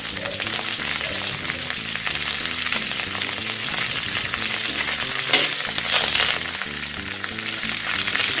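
Curry leaves, fenugreek seeds and fennel seeds sizzle in hot oil for a crab dry curry, a steady dense crackle with bursts of popping and a brief louder spit near the end, no voices.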